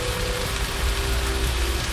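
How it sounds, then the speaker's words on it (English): Onions sizzling in a hot pan for a Belgian beef dish, a steady close crackling hiss that runs unbroken with no talk over it. "But first they say cook the onions until translucent."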